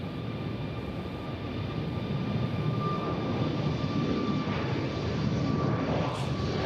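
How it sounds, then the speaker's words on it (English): A Southwest airliner departing Nashville airport produces a sustained, moderately distant engine rumble that builds slightly over several seconds, with a faint steady whine above it and no speech. "our next departure is the Southwest"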